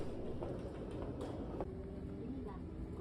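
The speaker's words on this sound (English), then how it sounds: "The sounds of the subway felt like sounds from a video game." A Kyoto subway train rumbles continuously with a dense low roar, faint tonal electronic sounds and occasional clanks over the steady noise.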